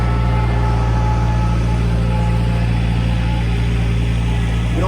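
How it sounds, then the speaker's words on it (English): A tractor drives past outdoors, its steady low engine drone loud and continuous throughout with no talk over it. "Tractor going by."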